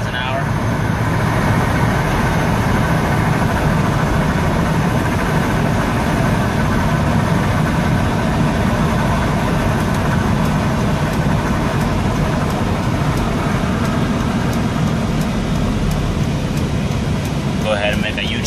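A 2007 Dodge Ram 3500HD pickup cruises at highway speed around 75 to 80 mph, giving a steady, loud cabin drone of engine, road and wind noise that runs unbroken throughout.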